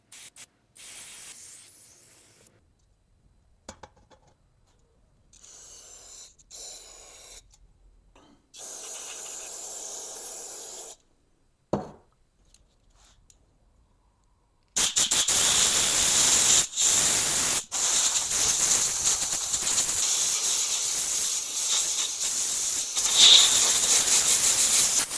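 Carb choke or brake cleaner sprays onto a Kubota BX2360 tractor hydraulic filter part, a loud steady aerosol hiss in long bursts with short breaks, following quieter rattling and handling noises.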